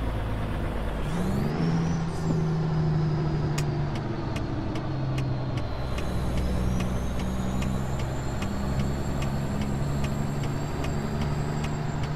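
A heavy truck in American Truck Simulator slows down, its engine whirring at a steady low drone while an air brake hisses and regular clicking ticks sound, loud and continuous throughout.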